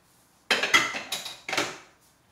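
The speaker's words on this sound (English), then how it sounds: "we're gonna unbuckle the springform pan and carefully lift off the sides" A metal springform pan holding a raw vegan cake is unbuckled and its sides lifted off: four or five sharp, close metallic clicks and clanks in quick succession, then quiet.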